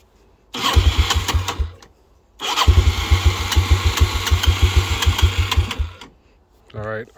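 Yamaha Timberwolf 250 ATV engine cranking and catching in two loud sputtering bursts with rapid pulsing firing, cutting out between attempts, followed by a brief low rumble at the end.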